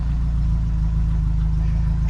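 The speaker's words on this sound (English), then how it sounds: "She's sat idling nice and quietly enough." A Renault 8 engine idles with a steady, low, even throb and regular firing pulses, close and continuous, no voices, no revving.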